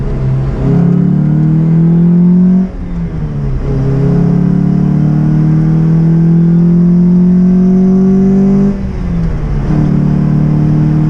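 An Abarth 124 engine revs hard as the car pulls away, rising in pitch through gears with two short dips at shift points, loud and close throughout with no talking.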